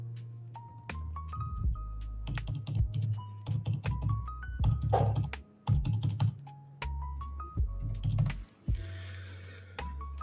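Computer keyboard typed in quick, irregular bursts with short pauses while a grant application form is filled in; the clacking is close and clear, with no talk over it.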